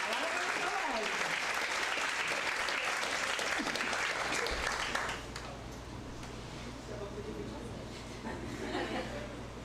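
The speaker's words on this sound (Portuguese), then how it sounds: "Palmas para a Fabiola!" Audience applause at an accounting week lecture at a Brazilian university, a dense burst of clapping with some chatter and chuckles that drops in level halfway, leaving quieter clapping over a low hum.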